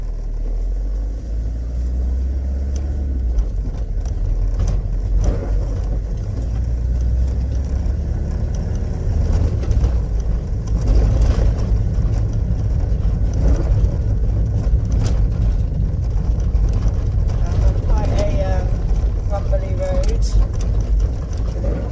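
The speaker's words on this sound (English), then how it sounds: "Showing how the engine sounds when it drives." The engine of a 1991 Renault Trafic Mark 1 van rumbles low and continuously while driving, with road noise and occasional rattles throughout.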